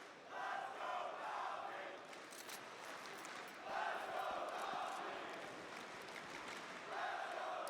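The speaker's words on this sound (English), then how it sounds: "Listen to that crowd, bro." Arena crowd at an IEM Atlanta Counter-Strike esports semifinal between Vitality and NaVi roars in repeated rising waves of cheering, distant and reverberant, filling the whole stretch.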